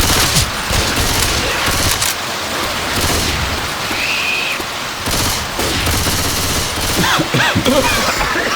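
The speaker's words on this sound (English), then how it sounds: "Keep shooting." Dense automatic gunfire rattles almost without pause in Left 4 Dead 2 during the rainy Hard Rain campaign, with rain and thunder-like rumble filling the background.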